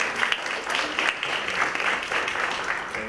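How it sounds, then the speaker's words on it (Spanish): An audience at a university lecture event applauds to welcome a professor. The clapping is steady and moderately loud from a room full of people, with no voices over it. "Un fuerte aplauso"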